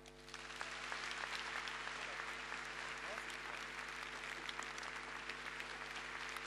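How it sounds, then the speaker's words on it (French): An audience at the opening of an event in France applauds steadily, a dense sustained clapping of many hands heard fairly faintly from within the hall. "applaudissez bien fort Bertrand Delanoë"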